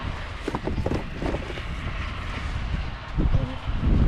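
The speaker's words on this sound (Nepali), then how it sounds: "छ हावा चल्दैछ नि" Outdoor wind in Hetauda buffets the microphone with a continuous roaring rush, gusting louder toward the end, close and heavy with low rumbling thumps.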